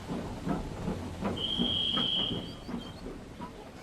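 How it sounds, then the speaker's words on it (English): A steam engine puffs out of a station in a Roblox game: rhythmic chuffing beats under a steady hiss, with a bright whistle-like tone sustained briefly in the middle. "saw Thomas puffing out of the station"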